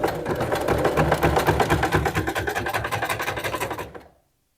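A sewing machine runs steadily through the first seam of a flared blouse with ruffles, its needle pounding a rapid, even rhythm close by before coming to an abrupt stop.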